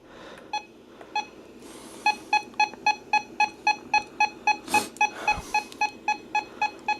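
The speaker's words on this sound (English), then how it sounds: "the alarm clock on the 521 is different than the 262." A RadioShack 12-521 clock radio alarm beeps in a steady, rapid series of about fifteen short electronic pulses, close and clear. Two isolated beeps come first, then the regular run, with faint handling noise partway through.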